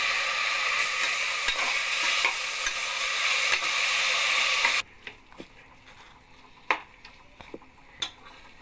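Sliced tomatoes dropped into a pan of frying onions, a loud dense sizzle for about five seconds that abruptly drops to a quiet simmer with scattered stirring ticks and clinks.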